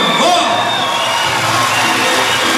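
Guests at a Turkmen wedding celebration in Istanbul cheering and whooping in a loud, continuous crowd roar, with voices shouting throughout.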